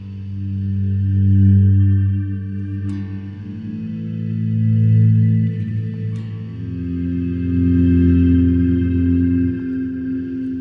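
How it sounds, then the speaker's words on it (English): Sustained, swelling guitar tones through a Mr. Black Eterna shimmer reverb pedal, washed in lush shimmering reverb, notes blooming and overlapping into a droning pad with no picking attack. "a Mr. Black Eterna, which is sort of like a shimmery reverb type of thing"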